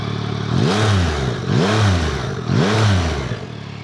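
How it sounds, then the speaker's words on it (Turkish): A Yamaha MT-09 motorcycle engine revs hard three times in a steady rhythm, each sharp rise and fall close by, with an idle rumble between. "Şöyle yola çıkmadan size bir motorun sesini dinletmek istiyorum."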